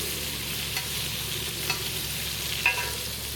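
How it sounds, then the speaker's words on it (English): Butter sizzling on a hot griddle while sandwiches are made, a quiet, even hiss with a few light clicks of a spatula, no talking. "Get that butter hot."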